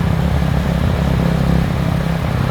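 Motorcycles such as a Sniper and Raider speed past on a road, a steady loud engine roar and wind rush holding constant throughout, close to the rider, with no voices.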